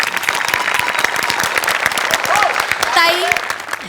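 Audience applause at a Marathi talk show greeting a singer, with brisk, steady clapping from a crowd close by and a voice speaking over it throughout.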